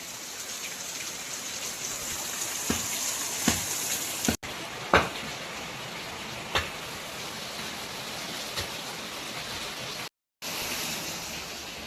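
Steady heavy monsoon rain pours outside a Konkan home kitchen as alu vadi steams, a constant close hiss broken by a few sharp drips or knocks and one brief dropout.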